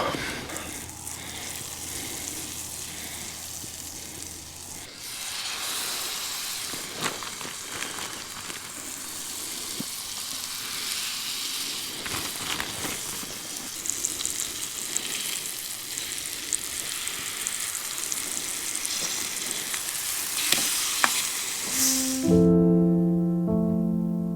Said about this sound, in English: Let that heat up and I'll get some butter so we can cook this steak